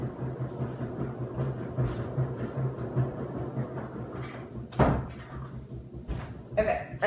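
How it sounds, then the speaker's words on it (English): A household door, near a washing machine, is shut with a sharp thud just before the five-second mark, followed by a smaller knock and faint rattle, over steady low room hum. "Okay, I closed that door."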